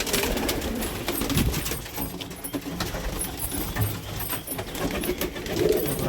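Pigeons at a coop coo in soft, repeated, throaty bursts under a continuous rustle of wings and scratching, close and busy throughout, with no one talking.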